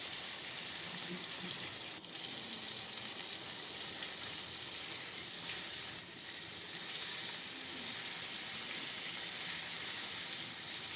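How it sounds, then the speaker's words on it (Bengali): Fish sizzling in hot oil in a home kitchen while being fried for a Bengali fish curry, a steady faint hiss with a couple of soft clicks, no talk. "ভালো করে মাছটা ভেজে নিলাম"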